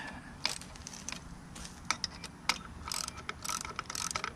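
Ratchet wrench tightening 10mm bolts on the lower unit of a 2019 Mercury 150 four-stroke outboard, bursts of rapid clicking ratchet strokes with short pauses between, close up and moderately quiet.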